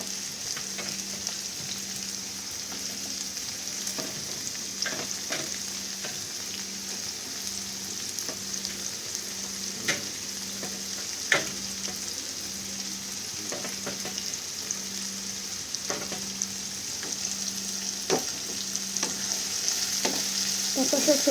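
Chopped capsicum and mixed vegetables frying in a pan, a steady close sizzle with regular scraping stir strokes and a low continuous hum underneath, no speech.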